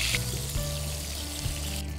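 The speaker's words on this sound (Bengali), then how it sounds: "ব্রাউন করে একটু ভেজে নেব" Meat fries and browns in a pan with a steady, close sizzle, a constant hissing wash with a few small pops and no talking.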